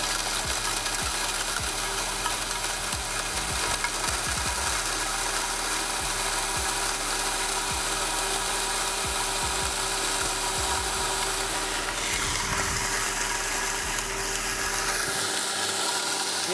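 Evotools 1100W electric grain mill running while grinding cereals such as maize, wheat and barley, a steady, fairly quiet motor drone with light rattling, continuous and alone throughout.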